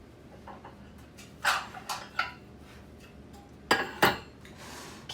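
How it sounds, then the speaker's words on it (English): Metal baking pans, Wilton donut pans among them, clank and clink as they are handled in a kitchen, a few sharp knocks in two clusters over quiet room tone. "I'm gonna grab my baking pans for you."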